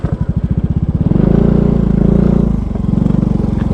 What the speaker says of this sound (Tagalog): Ito yung tricycle ng Kojip oh.